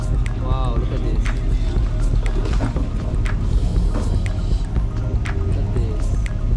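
A boat moves along the Madu Ganga river in Sri Lanka, a continuous low motor rumble with water sloshing and splashes, close, while people talk over it.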